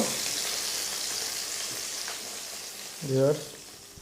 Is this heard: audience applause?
no